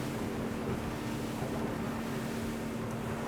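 A Jeanneau NC 895 Sport motorboat cruises at 4,500 RPM, its engine a steady, dense drone mixed with rushing wind and water, constant and even with no voices.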